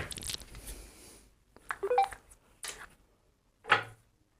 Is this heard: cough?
no